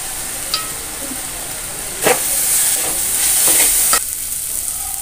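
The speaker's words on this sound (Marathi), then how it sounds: "इथे कांदा टोमॅटो आपण चांगला परतून घेतलाय।" Onion and tomato sauté in a pan for matki bhaji, giving a soft steady sizzle and hiss. A spoon scrapes and stirs through it several times, briefly louder in the middle.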